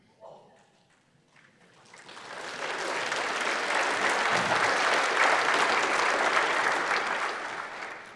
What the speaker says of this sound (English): I knew I'd get applause from some of you.